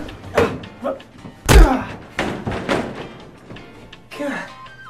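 A door bangs shut with one heavy, loud slam amid several lighter thumps and knocks, while people talk over and between the impacts.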